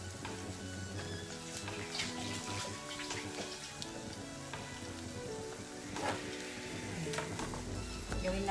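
Tap water runs steadily over an eggplant being washed, a soft close splashing and trickle with small irregular spatters throughout, fairly quiet and without talk.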